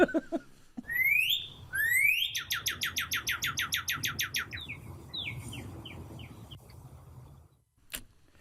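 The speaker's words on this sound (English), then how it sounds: "I believe our engineer, Betsy, has a cardinal call in there" Loud cardinal calls: a couple of rising whistles, then a rapid run of repeated chirps, with softer calls trailing off against faint background hum.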